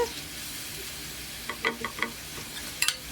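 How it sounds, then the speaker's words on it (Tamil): Butter garlic prawns sizzling in a pan over medium heat, with a steady frying hiss and a few distinct spatula stirs and clinks near the end, close and fairly quiet. "இறாலை சேர்த்துட்டு நல்லா மிக்ஸ் பண்ணிகிட்டு இருக்குங்க"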